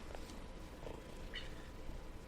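A house cat close to a microphone during an interview recording, with faint purring and soft rustles over a low background hum, quiet and near, with no talking.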